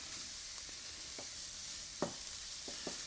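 Smashed garlic sizzles softly in hot oil for jambalaya, a steady faint hiss broken by a few light scraping clicks from a utensil.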